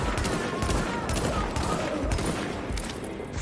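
Rapid, dense gunfire from The Division fills the clip as a continuous loud barrage of overlapping shots, with a voice faintly present underneath.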